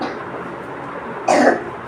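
A single short cough bursts out near the end, close and fairly loud over a steady low room hum, with no talking around it.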